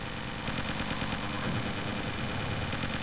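Sustained automatic gunfire from a real-time strategy battle in Original War, with units firing steadily at a factory building, a dense continuous rattle at moderate level with no voices over it.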